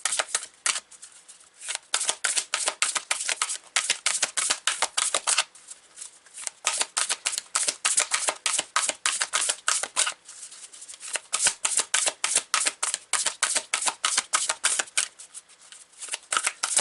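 A deck of oracle cards is shuffled close up in quick, crisp riffling bursts that repeat rhythmically with brief pauses between runs, and no one speaks.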